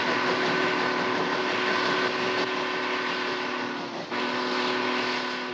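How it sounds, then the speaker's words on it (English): A train's steamboat-style whistle gives a low moaning, sustained tone over a loud, continuous rumble of the moving train. "That type had what we termed the steamboat whistle, which was a low moaning type whistle."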